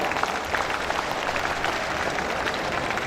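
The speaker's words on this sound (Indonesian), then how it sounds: "Tepuk tangan buat Pak Arif Yahya." A seated audience at a leadership talk applauds a guest speaker, Arif Yahya. Steady, dense clapping from many hands runs throughout, fairly loud and close, with no voices over it.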